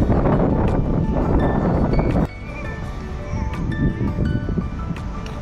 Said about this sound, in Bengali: প্রচণ্ড হাওয়া, সমুদ্রের গর্জন